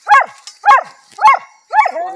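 Hunting dogs on an armadillo hunt bark four times in a steady rhythm, sharp and close, with a short whine trailing the final bark.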